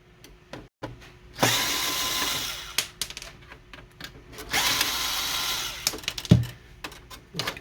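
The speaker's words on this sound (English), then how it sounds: "we need to remove these two screws. We're going to use a Phillips head screwdriver." Phillips screwdriver backing screws out of a Canon Pixma MX490 printer casing, heard as two bursts of ratcheting, scraping clicks with short mechanical knocks between them, close and fairly loud with no talk.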